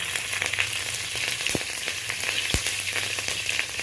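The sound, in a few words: five-spice and slit green chilies sizzling in hot oil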